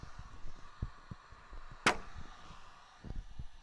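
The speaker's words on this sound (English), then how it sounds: "Let's see if this Woods grip will grab." A Woods grip suction cup lets go of a Mazda 3's dented panel with a single sharp pop, close and distinct, amid faint low handling knocks before and after.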